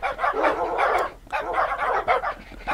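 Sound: dogs barking and attacking in Minecraft video game

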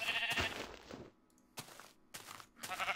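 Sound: sheep bleating in a video game

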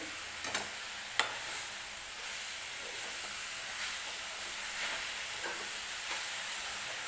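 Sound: stirring jaggery and coconut modak filling in a pan

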